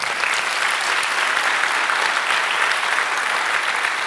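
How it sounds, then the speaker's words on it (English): Sustained audience applause at a JSConf.au 2014 conference talk, a dense steady clapping from a large crowd that holds level for the whole stretch without letting up. "a round of applause for Harvey Birdman"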